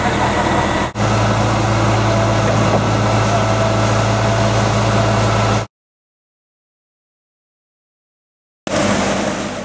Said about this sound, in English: First to arrive is the pump truck, followed by what will be one of 7 cement trucks.